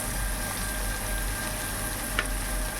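Onions, green chillies and caraway seeds frying in a pan for carrot biryani, a continuous steady sizzle and crackle with a faint scrape of stirring and no talk.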